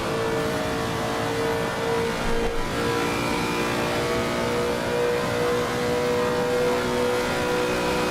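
A Lexus V8 GT3 race car engine on Conrod Straight at Bathurst in a PC racing game roars loudly and continuously under sustained acceleration, with a steady rising drone and no talk.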